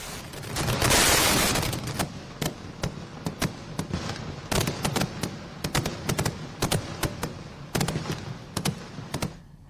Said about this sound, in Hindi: तस्वीरों में देख सकते हैं कि किस कदर आतिशबाजी की जा रही है